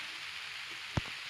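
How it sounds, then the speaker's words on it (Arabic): Steady rain hiss in the Minecraft video game, with a single soft tap near the end and no talk. "ويكون الصبح جاب المطر"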